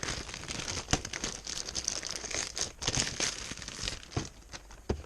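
Cardboard and plastic packaging of a WWE action figure box for Seth Rollins in white SummerSlam 2015 gear crinkling and tearing as it is opened, with close, continuous rustling and several sharper rips.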